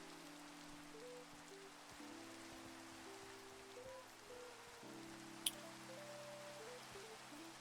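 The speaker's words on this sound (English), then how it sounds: "The rain's so loud." Rain in a hardcore singleplayer survival video game, a steady even patter of rainfall on surfaces throughout, heard under a low droning game music tone, with one brief click near the end.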